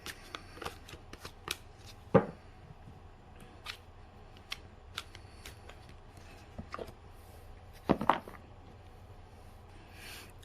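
Tarot cards being handled and shuffled give a run of soft, quick riffles and slaps, close by, with a couple of louder bursts as cards spill out, and quiet pauses between.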